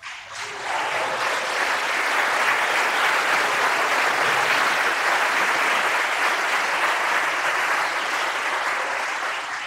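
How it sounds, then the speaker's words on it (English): Reunion assembly audience of alumni from the classes of 1970 to 1972 bursts into sustained, loud applause and cheering that swells quickly and holds steady for nearly ten seconds with no speech over it. "that's not just the class of 1970, 71, and 72 cheering"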